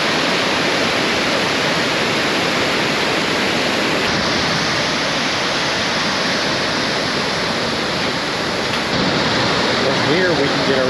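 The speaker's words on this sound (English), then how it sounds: "Here we can get a real sense of the immense power of the water that's tumbling over these ledges." At Iguazu Falls, water tumbles over the rock ledges in a loud, constant roar, a dense rushing wash with no break, heard up close.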